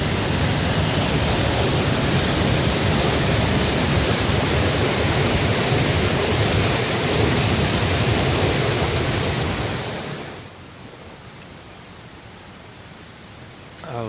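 A waterfall on Maui roaring as a loud, steady broadband rush of falling water, which drops sharply to a quieter background hiss near the end.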